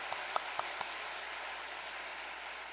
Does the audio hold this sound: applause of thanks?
yes